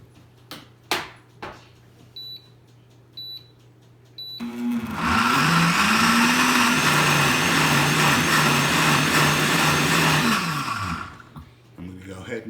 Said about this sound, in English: With my blender, I'm going to let it pulse it a little bit